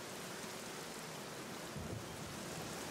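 Rain pours in the Black Mirror video game as a character walks through it, a dense, steady wash of falling water with a low rumble underneath that swells briefly near the end.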